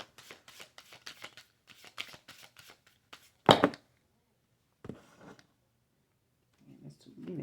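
A deck of tarot-style cards is riffled and shuffled in quick rapid bursts, close and crisp, with a sharp flurry midway and softer handling afterward, no speech over it.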